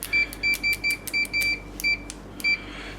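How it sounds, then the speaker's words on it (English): Short electronic beeps from a Fluke 289 multimeter's continuity tester sound in a quick, irregular series, high and clear, some brief and some held a little longer, close by in a quiet room. "I quite like the animation beep on short"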